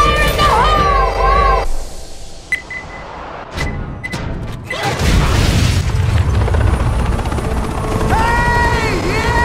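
An explosion in the game Left 4 Dead goes off amid loud chaotic noise, with a burst of booming rumble and clatter around the middle, over a constant mechanical roar with voices mixed in.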